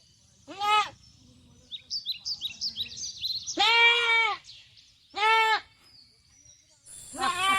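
Goat bleating on farmland, four loud, wavering bleats spaced a second or so apart, with a run of quick bird chirps between the first two.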